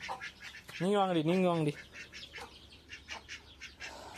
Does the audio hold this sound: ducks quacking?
yes